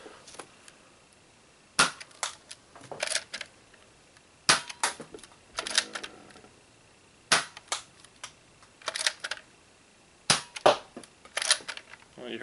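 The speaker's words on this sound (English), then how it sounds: "let's go ahead and fire this" Nerf Zombie Strike Hammershot blaster firing: sharp, loud snapping shots repeat roughly every one and a half seconds, each followed by quieter mechanical clicks of priming, close up with no talking.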